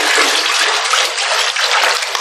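Hot water runs steadily into a basin and is diluted for a piles treatment, a continuous close splashing gush that stays even in level for the whole stretch, with no talking.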